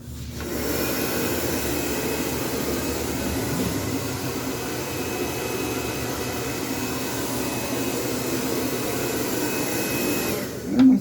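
A handheld electric blower runs steadily with a loud, continuous motor whine that holds an even level for the whole stretch, with a brief louder bump near the end.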